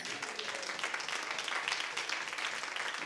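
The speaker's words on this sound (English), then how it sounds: "clap your hands to his glory right there" Dense, steady applause from a church congregation at a gospel service, a continuous wash of clapping hands with no pauses, fairly close and even in loudness throughout.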